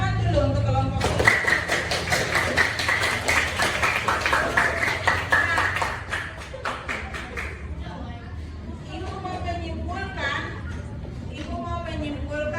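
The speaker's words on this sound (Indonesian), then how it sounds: "tepuk tangan dulu untuk kelompok 3" Classroom students clap for a presenting group, a dense burst of hand claps and taps for several seconds that thins out, with chatter and a teacher's voice continuing afterward.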